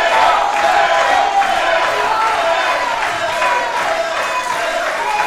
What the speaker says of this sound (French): Vous pouvez entendre la foule qui a choisi son favori.